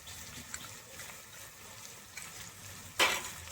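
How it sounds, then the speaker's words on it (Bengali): Mustard and poppy seed paste sizzles in a pan with ridge gourd as it is stirred, a soft steady fry broken by one louder scrape or splash near the end; no one speaks. "এবার আমি দিয়ে দেবো সর্ষে বাটা, আর দিয়ে দেবো এখানে পোস্ত বাটা।"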